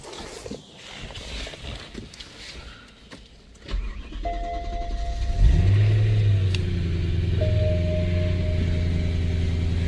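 A BMW E92 M3 running E85 fuel cold starts: quiet shuffling first, then a starter crank as the engine catches with a rising roar and settles into a loud, steady high idle with a faint whine.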